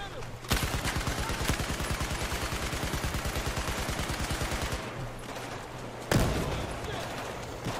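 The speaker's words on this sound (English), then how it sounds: "Where are we getting shot from?" Battlefield 4 campaign gunfire in Tashgar: a long, steady machine-gun burst of rapid evenly spaced shots lasting several seconds, then a loud blast and further shots, with voices talking.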